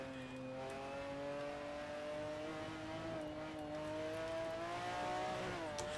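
A race car engine in the racing game Assetto Corsa holds a steady high drone, then its pitch falls and wavers as the car brakes hard, with a faint tire squeal near the end.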